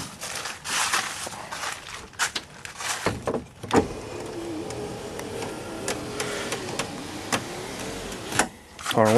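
Power windows on a 1954 Ford F-100 truck whir up and down in short motor runs, mixed with clicks and thumps close by and a faint idle underneath.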